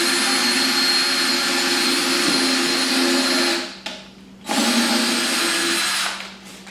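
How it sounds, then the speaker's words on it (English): Power drill boring pilot holes in wood with a steady high whine that runs for several seconds, cuts out briefly, then resumes before tapering off; close and loud with no talking. "To begin, we want to drill pilot holes using the drill bit."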